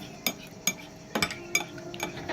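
A spoon clinks and scrapes against a bowl while stirring a Nesquik slime mixture, with about five sharp, close taps at an uneven pace.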